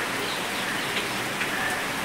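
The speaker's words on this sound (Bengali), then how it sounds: "বাইরে এসে পড়েছে বৃষ্টি" Rain falling outside on a cloudy day, a steady dense hiss of drops hitting surfaces, even and close throughout, with faint bird chirps in the background and no talking.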